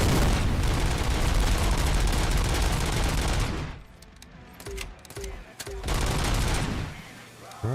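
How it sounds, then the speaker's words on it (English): A grenadier in the video game RoboCop: Rogue City firing grenades, producing a long, loud barrage of rapid blasts and gunfire that cuts off suddenly into quieter clanks, beeps and scattered impacts, then a final short burst. "Explosive specialist fires grenades!"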